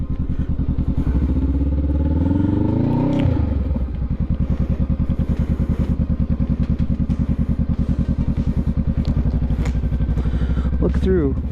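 A motorcycle engine idles with a throbbing, loud rumble, its pitch rising sharply once as the throttle is revved, then settling back to a steady chug while a rider speaks over it.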